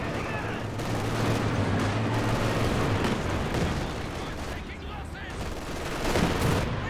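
A T-34 tank opening fire on machine-gun positions in a competitive strategy video game match, amid a busy, continuous din of gunfire and heavy blasts that builds again near the end.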